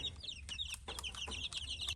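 Several chickens cluck and chatter in quick, overlapping bursts close by, a busy flock sound against a low background hum.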